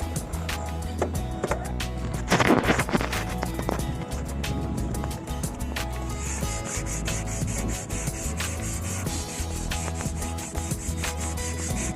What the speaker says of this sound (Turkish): Kalından inceye doğru zımpara yapacağım ve en son tertemiz pırıl pırıl çıkacak inşallah